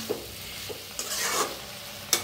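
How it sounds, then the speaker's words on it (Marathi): Masala okra (bhindi) stirred as it fries in a pan, with a few quick spatula scrapes and taps over a steady soft sizzle, close and moderately loud, with no speech. "मस्त मिक्स करूया. तर आता भेंडी लगेच शिजते."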